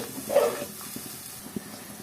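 Garlic paste, chili powder and turmeric sizzle briefly in a hot pan as they are sautéed, a short close hiss with a few soft stirring knocks.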